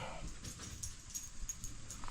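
A dog whimpers faintly near a barn, thin high whines repeating in short soft bursts over low background noise.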